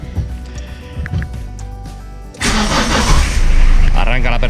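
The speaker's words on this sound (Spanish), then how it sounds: "el coche va a arrancar perfectamente con su batería original" A car cranking with its original battery, a low rhythmic starter churn for a couple of seconds before the engine catches and settles into a loud, steady idle, with a person talking over it.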